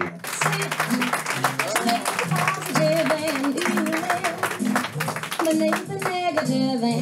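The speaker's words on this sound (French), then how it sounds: "vous l'applaudissez" Audience in a hall applauding Maxime Opinel as he enters, steady clapping running under music with a tonal melody throughout.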